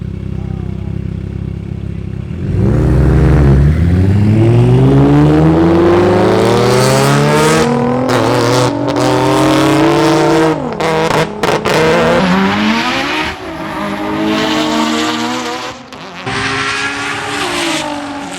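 A nitrous-fed 2021 Mustang with a 10-speed automatic launches in a roll race, its engine roaring loud and close with repeated rising sweeps as it climbs through gears, then fading somewhat near the end.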